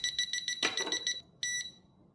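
A TopTes PT210S combustible gas leak detector sounds its alarm in rapid, piercing electronic beeps, loud and close, which stop briefly and then resume for a short burst before cutting off.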